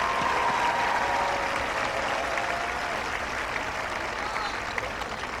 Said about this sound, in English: would you give this class a round of applause for their accomplishments?